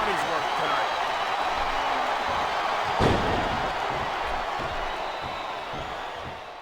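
Arena crowd noise in the wrestling game WWE SmackDown vs Raw 2007, a steady broad roar of a packed audience with a thud near the middle, running under commentator talk.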